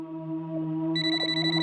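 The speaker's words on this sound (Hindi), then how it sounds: "भाई का फोन है।" A phone ringtone plays a steady electronic tone, brightening partway through into a higher layered chime, close and alone.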